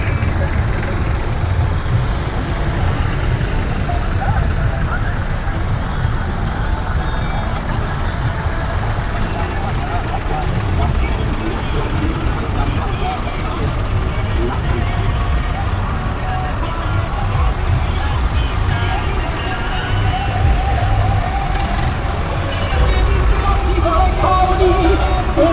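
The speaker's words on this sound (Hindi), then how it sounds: "ये सारे ट्रैक्टर रवाना हुए हैं जी।" A long line of tractors rolls away in a convoy from a farmers' gathering in India, a steady loud rumble of engines and idling motors running without break, with voices in the background.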